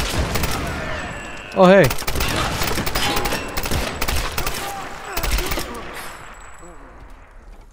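Rapid bursts of gunfire in Tomb Raider 2013, sharp repeated shots clustered in volleys with a brief whooshing effect, while someone talks over the action.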